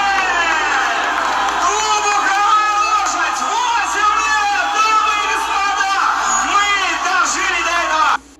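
A crowd on a packed party dance floor cheers and whoops continuously, with loud, dense shouting and babble throughout, cutting off abruptly at the end.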